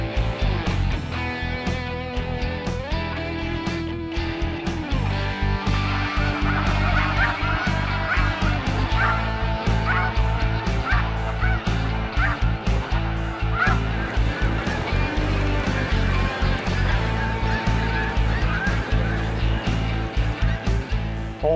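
A large flock of snow geese honking continuously at Montmagny, dense overlapping calls that stay loud and busy throughout.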